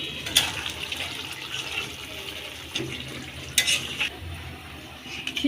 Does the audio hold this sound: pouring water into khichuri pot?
yes